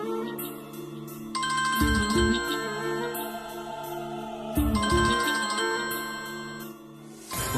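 A phone plays a melodic electronic ringtone for an incoming call, a repeating chiming tune with bright bell-like notes, close and clear, cycling about twice without any talking.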